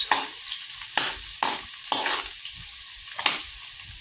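Onions and garlic frying in a pan, a soft sizzle punctuated by several sharp stirring scrapes at irregular intervals, close up and low in level.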